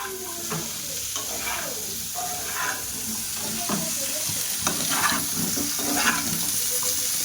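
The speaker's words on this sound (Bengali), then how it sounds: "ফুলকপি আর আলুটা আমি একটু লাল লাল করে ভেজে নেব" Cauliflower and potato pieces frying in a pan with a little salt, a loud continuous sizzle broken by frequent scraping stirs of a spatula, up close and without speech.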